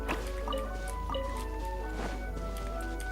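A droplet appears in the Genshin Impact video game with soft watery dripping and trickling tones over a steady low hum, set against a light game music backdrop.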